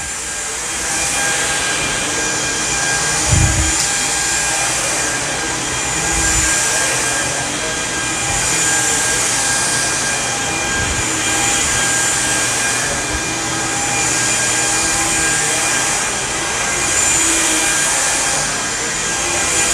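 Samsung Jet cordless vacuum cleaner running on carpet, a loud steady high whine and rushing airflow held throughout, with a few soft low thumps as the head is pushed back and forth.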